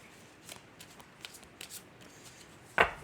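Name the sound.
shuffling tarot cards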